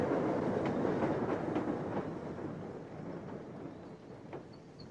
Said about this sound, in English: Yeah, this is our train. It's here.